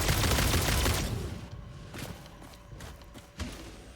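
Homing rifle rounds fire in the video game Satisfactory: a dense volley of shots for the first second, then a few scattered sharp reports and impacts fading out.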